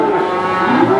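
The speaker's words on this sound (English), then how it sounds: "So there's plenty of them, lots of calves in here" A cow gives a long, loud, close moo inside a barn at night, where many cows and calves are housed, sustained and steady across the whole moment with no talking.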